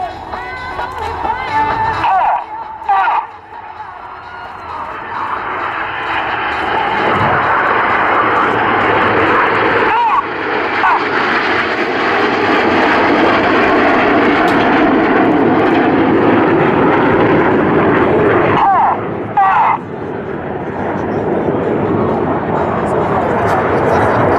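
RAF Red Arrows jets roar loudly and continuously through an airshow flying display at Luchtmachtdagen 2014, the engine noise swelling and sustained as the formation passes, with a commentator's voice running over it.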